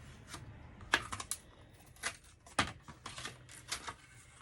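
A scalpel cutting a 3-foot Barbie standee out of foam board, heard as quiet, sparse scratchy strokes and small crisp clicks at irregular intervals, close up.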